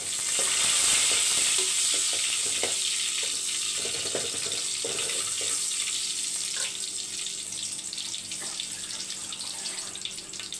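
Garlic, curry leaves and dried chillies frying in hot oil, a loud, dense crackling sizzle that starts strongest and settles to a steady hiss, with a few faint stirring knocks.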